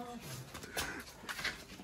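A person imitates a dog with a few short, close yelping and whimpering vocal sounds, mixed in with quick casual talk.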